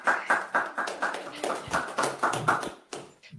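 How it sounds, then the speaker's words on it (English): Audience applause closing a seminar talk: steady clapping from a group of listeners, dense and continuous with rhythmic swells, tapering off near the end. "yeah, big applause"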